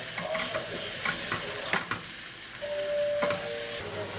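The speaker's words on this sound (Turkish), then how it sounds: "Birlikte 1-2 dakika kavuruyorum." Chopped green and red bell peppers sauté in olive oil for a one-pot summer vegetable pasta, an even crackling sizzle punctuated by a few spoon scrapes and metallic clinks, with no one talking.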